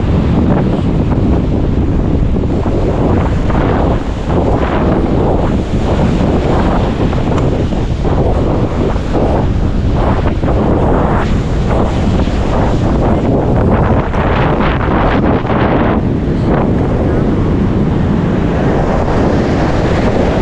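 Strong wind buffets the microphone at a seashore while sea waves surge and wash continuously underneath, a loud, unbroken roar with no voices.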